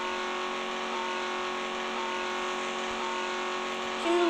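Synthetic Peugeot 308 engine in an Android driving simulator game, a steady droning hum held at constant pitch, then a short louder burst near the end; no talk.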